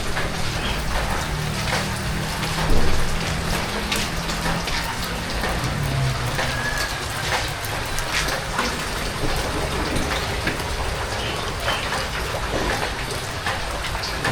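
Steady rain falling around a home yard, a dense, continuous patter with no voices over it.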